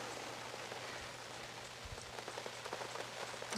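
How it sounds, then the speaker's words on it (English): Rain falls outdoors during an outdoor inversion workshop, a soft, steady patter of drops on surfaces with faint scattered taps and a low background hum, no voices present. "and we're getting some rain."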